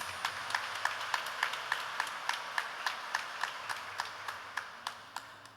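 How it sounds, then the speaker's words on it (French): A congregation claps in a steady, evenly spaced rhythm during a Catholic Mass, the sharp claps ringing out in a reverberant church with no voices. "On nous applaudit Père Alfred pour nous dire merci."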